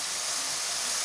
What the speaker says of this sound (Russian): Обратите внимание, сколько выделяется пара.